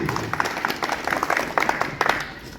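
Audience applause at a Lions Club eye camp event, a brief burst of scattered clapping at moderate loudness, with some voices mixed in.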